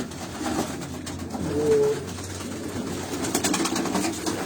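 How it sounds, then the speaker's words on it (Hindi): Soft, low racing pigeon coos rumble repeatedly against a steady background hum, close by, with a faint whistle-like tone briefly rising in the middle. "ये एक आपको एक बहुत ही नायाब कबूतर दिखाता हूँ।"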